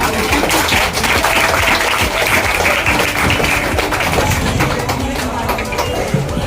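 Loud, dense applause from an audience at a lifestyle team event in Virar, honouring the mothers, with clapping sustained steadily throughout and voices mixed in underneath.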